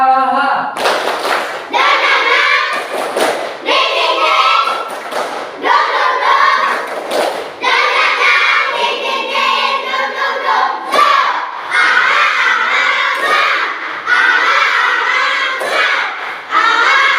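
A primary school class of children performs a spirited rhythmic clapping cheer in a classroom, with loud, patterned bursts of claps, stamps and shouted chanting voices repeating across the stretch, pausing briefly between rounds.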